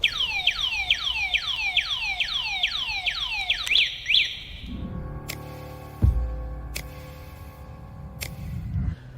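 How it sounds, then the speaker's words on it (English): A Sondors Metacycle electric motorcycle anti-theft alarm wails through rapid repeated falling chirps, then switches to a sharper pulsing pattern, loud and close, with no one talking. "if anyone disturbs the bike, the alarm will go off."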